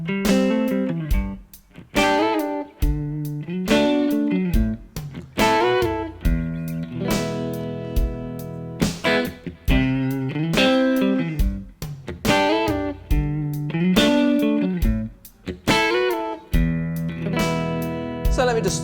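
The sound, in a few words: Electric guitar licks over a song's chords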